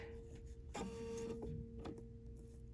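A Bernina sewing machine runs briefly while stitching along a marked line, giving a close mechanical whir with a steady tonal hum that shifts pitch once or twice over a few seconds, no speech.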